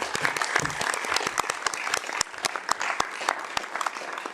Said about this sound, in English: let's just do a quick round of applause for Jagmeet